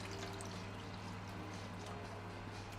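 Water is poured into a pot of stock made with stock cubes, a steady faint trickle running continuously at low level without any talk.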